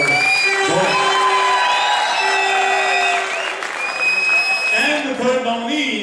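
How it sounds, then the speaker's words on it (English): An awards ceremony audience gives a round of applause, clapping mixed with cheers and whoops under background music tones, fairly loud and sustained for about six seconds. "Round of applause for John."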